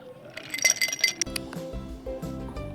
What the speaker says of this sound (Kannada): ಇದಕ್ಕೆ ನಾನಿಲ್ಲಿ ಐಸ್ ಕ್ಯೂಬ್ಸ್ನ ಯೂಸ್ ಮಾಡ್ತಾಯಿದ್ದೀನಿ